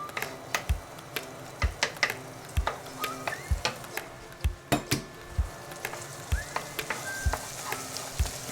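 Egg yolk going into hot oil for fish roe and mayo fried rice: a steady sizzle under repeated sharp clacks of a utensil against the pan, roughly one or two knocks per second, close and fairly loud.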